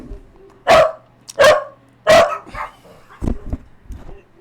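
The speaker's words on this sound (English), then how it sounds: "Sorry for all the barking." A dog barks in several sharp, loud, close bursts with short gaps, followed by a few quieter yips. No one speaks.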